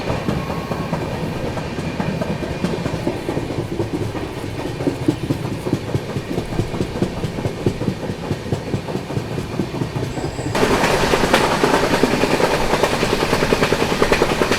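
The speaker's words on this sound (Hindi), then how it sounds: "देख लो निकलते ही निकलते बढ़िया रफ्तार बना ली है ट्रेन ने" The Grand Trunk Express gathers speed just after departure, its wheels clattering in a quickening, steady rhythm over a heavy rolling roar that suddenly grows louder and brighter near the end.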